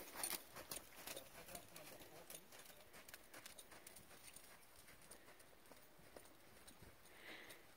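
A mare trained for hunter under saddle trots, her hooves making a quiet, regular clip-clop rhythm at a distance, with soft voices in the background.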